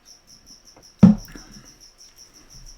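A cricket chirps in steady, evenly spaced high pulses throughout, interrupted by a single loud thump and a brief rustle in the foreground partway through.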